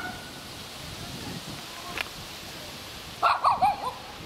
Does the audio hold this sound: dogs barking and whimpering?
yes